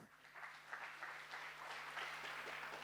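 An audience at a doctors' seminar claps together in a faint, steady round of applause that holds evenly for a few seconds, with a low electrical hum underneath.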